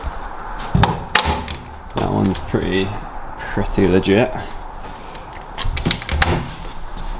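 An office door in a workshop is opened and closed, giving several sharp thumps and knocks with a latch clatter, close by, while people talk over it throughout.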